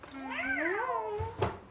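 A cat gives a single drawn-out, rising-and-falling meow while being petted, close and clear, followed by a brief soft rustle.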